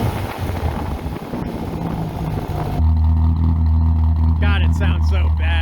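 A worn motor, smoking heavily at the end of its season, is revved. Its deep, loud, steady engine drone starts suddenly midway after rustling handling noise, and a voice briefly speaks over it near the end.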